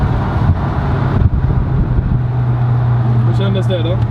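Mercedes AMG car under hard acceleration, heard from inside with a steady low engine drone and rising roar, while people talk over it and a brief squeal of tones appears near the end.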